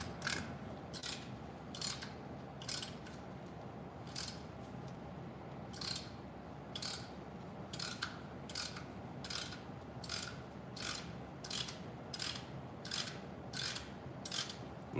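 A brake caliper piston compressor tool pushes the pistons back into a fixed-style caliper during a pad and rotor replacement, giving a steady series of sharp ratcheting clicks, roughly one per second, close up over a low background hum.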